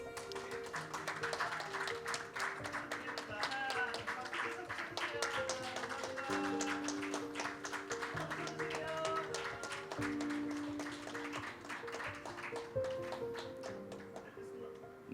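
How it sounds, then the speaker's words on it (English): An audience at the REAIM symposium on responsible AI in the military domain applauds. Dense, steady clapping runs under stately music with sustained tones, then fades near the end. "Please give them a big round of applause."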